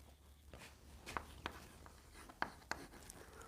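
Handwritten notes go down on paper in short, quiet scratches and taps, a few sharper pen strokes spaced irregularly against faint room hiss, without talk.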